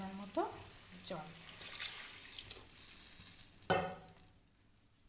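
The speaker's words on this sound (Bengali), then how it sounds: "এবার এর মধ্যে দিয়ে দিচ্ছি ভেজে রাখা বেগুনগুলো, আর দিয়ে দেব পরিমাণ মতো জল।" Water is poured into a hot pan of hilsa fish curry in mustard gravy with fried eggplant, a hissing sizzle and bubbling that flare up and then settle, close and moderately loud.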